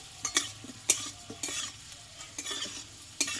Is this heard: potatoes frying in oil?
yes